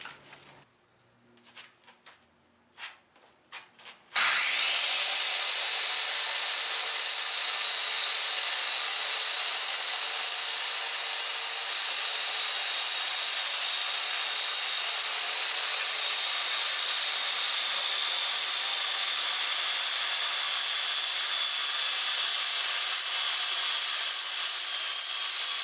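Angle iron of 1/8 inch mild steel clamped to a table is cut with a power tool. A few short taps and clicks come first, then a sustained, loud, high-pitched grinding whine that wavers slightly in pitch and runs unbroken to the end.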